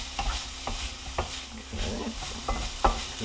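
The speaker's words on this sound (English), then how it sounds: "And I'm going to add my green onion. And I'm going to stir that" Green onion is stirred into a sizzling pan of egg roll filling: repeated scraping strokes and light utensil taps sound over a steady, moderate frying hiss.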